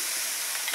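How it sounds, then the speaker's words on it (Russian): Mushrooms cooking in a pan over medium heat, giving a steady soft sizzle throughout with a brief stirring scrape near the end, close and moderately quiet with no talk. "на среднем огне под крышкой упарить сначала грибы"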